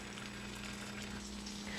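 Steady, even sizzling of patties frying in a hot pan, continuous and close with no talking.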